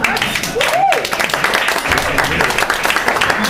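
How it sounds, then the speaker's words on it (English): A dinner audience at an authors' celebration breaks into applause, a broad wash of clapping that fills the room while a speaker's voice continues over it. "Actually, that's good to applaud"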